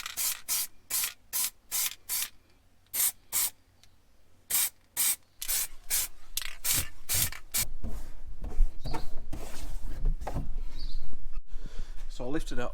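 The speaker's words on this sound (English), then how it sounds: "There's a few little rusty bits I'm going to rub down now" Sandpaper rubbing down small rusty spots on a Range Rover P38, heard as a run of short, evenly spaced scraping strokes, followed by a steadier, denser hiss and rustle.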